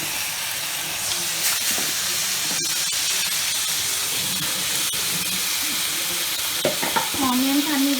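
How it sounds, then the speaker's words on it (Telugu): Onions and raw cashews sizzle in hot oil as they are mixed with a spoon. Loud, continuous frying is punctuated by scraping and clinks, and a wavering whine rises briefly near the end. "ఆనియన్స్ అన్నీ వేగిన తర్వాత ఈ పచ్చి జీడిపప్పు వేసుకుని కొంచెం కలిపేసుకుని సిమ్లో పెట్టుకోవాలి."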